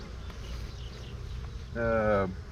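Honey bees buzz inside the top box of a hive in a farm apiary, a soft steady drone that swells into a louder, closer tonal hum near the end.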